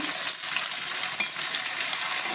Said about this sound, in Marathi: त्याला पण छान असं थोडंसं परतून घेऊया